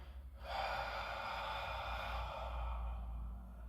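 A person takes one long, audible inhale through the nose and mouth during a floor exercise, close and breathy, lasting a few seconds with no speech.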